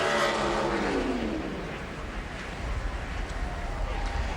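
A NASCAR Busch Series race car roars through a qualifying lap at Gateway, a loud sustained engine drone with a shifting pitch as it passes, while an announcer talks over it.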